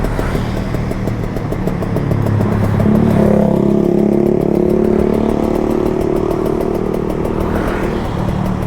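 A Kawasaki Ninja RR 150 motorcycle engine, an older model, revs up with rising and falling pitch sweeps over a steady buzzing idle, loud and close, with no voices.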